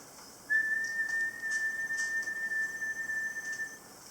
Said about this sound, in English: But if you give it a tone, like a whistle